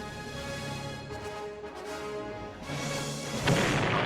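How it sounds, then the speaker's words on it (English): A cheap-sounding explosion effect: a sustained rumbling roar that swells into a louder burst near the end, with no voices. "they digitally overlay this shitty little explosion effect"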